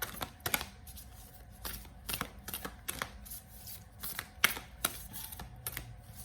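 Tarot cards are shuffled by hand in quick, irregular bursts of snapping and riffling, close and fairly quiet, with soft pauses between flurries and no one talking.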